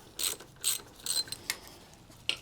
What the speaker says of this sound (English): So this is the tensioner right here. We're going to loosen that first thing.